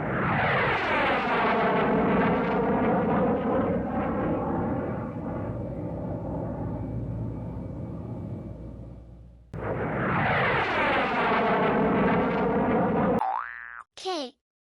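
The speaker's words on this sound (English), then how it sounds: "J for jet." A jet aircraft sound effect roars loud and close, a sustained whooshing engine tone that fades, then surges again before cutting off with a brief bright ping at the end.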